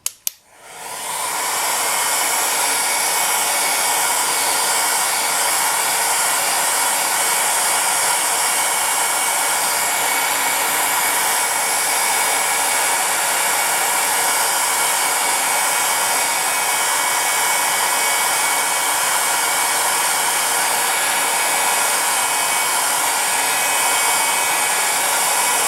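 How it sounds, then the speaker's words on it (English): A hair dryer blows steadily on polymer clay as a strong, continuous whoosh that starts abruptly and holds at a constant level, close and loud, with no talking. "I like to use a hairdryer or the lowest setting on my heat gun, just to blow for me"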